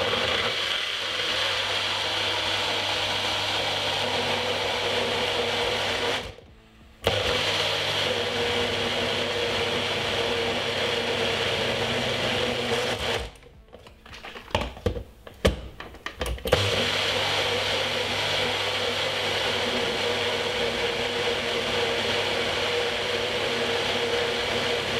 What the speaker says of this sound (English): Now what we're going to do is blend it.